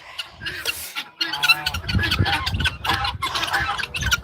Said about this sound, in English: The chickens will come to eat the mash.